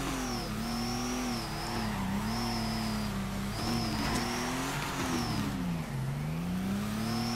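Drift car engine in the video game Torque Drift, running with unadjusted stock boost, revs steadily with rising and falling pitch sweeps as the car slides. The engine drones loud and continuous throughout with no talk.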